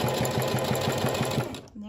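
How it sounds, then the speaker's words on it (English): A sewing machine runs a short burst of stitching on ribbon trim for a tutu, an even rapid pulsing that stops abruptly, followed by a voice starting to speak. "forward stitch to lock in the threads."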